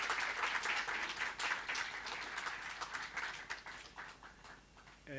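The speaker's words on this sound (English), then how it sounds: "Let's give them a round of applause" Audience at an annual general meeting giving a round of applause, dense sustained clapping that holds steady for several seconds and then gradually thins and fades, with no voices over it.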